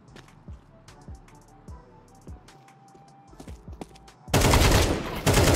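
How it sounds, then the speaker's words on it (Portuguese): Counter-Strike 2 gunfire exchange: a few sharp shots in the first half, then a loud, dense burst of automatic fire near the end, with faint voices. "Eu vou tentar trocar tiro aqui, velho."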